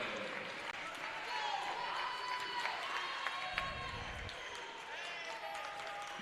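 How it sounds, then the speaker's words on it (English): A home-team crowd at a girls' high school basketball game cheers steadily in an indoor gym, a distant, continuous roar with scattered shouts and squeaks from the court. "The crowd noise picking up here inside of the castle, rooting on the home team"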